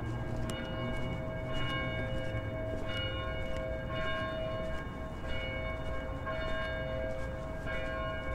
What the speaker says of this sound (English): got some Sunday church bells going